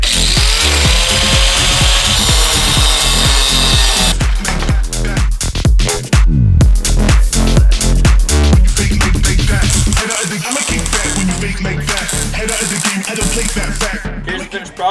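Cheap $13 Harbor Freight angle grinder cutting a metal bracket for a K24-swapped EK Honda, loud and close, a sustained whining grind that breaks into rough, choppy cutting bursts before settling into a steadier tone.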